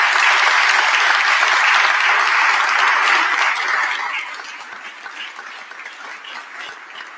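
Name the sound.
audience applause for volunteers and contractors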